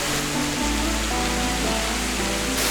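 A waterfall pours into a pool on a mountain hike, its dense, broad rushing roar filling the whole stretch close and loud with no voices.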